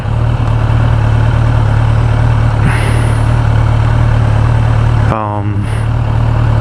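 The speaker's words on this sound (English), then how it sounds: "I've also been pretty impressed by the sound of the exhaust note, and it sounds just, even in stock form, the exhaust sounds quite nice" A stock-exhaust Kawasaki Ninja ZX10R motorcycle holds a steady, loud, close engine drone while riding through the city, with a brief change in pitch near the end.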